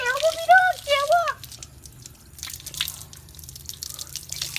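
Water drains and splashes from a garden hose at an outdoor bathing spot, with scattered drips and gushes following a brief stretch of voice at the start.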